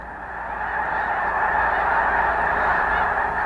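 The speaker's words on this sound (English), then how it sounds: "Mud Lake in eastern Idaho becomes a temporary oasis for thousands of snow geese" A large flock of snow geese honks continuously at Mud Lake in eastern Idaho, a dense, steady wall of overlapping calls that stays loud and unbroken throughout.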